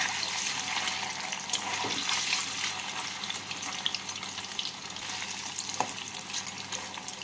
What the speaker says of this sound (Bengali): এবার এর মধ্যে পনিরগুলোকে দিয়ে পনিরগুলোকে এপিট ওপিট করে হালকা লাল করে ভেজে তুলে নেব।